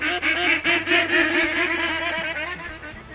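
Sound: ducks calling, from a video game

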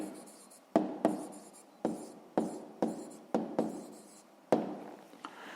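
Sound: writing the answer by hand

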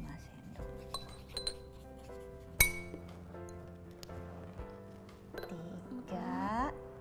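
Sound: spoon clinking glasses while measuring water

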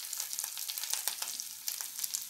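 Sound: sautéing ganike (nightshade) greens in a pan

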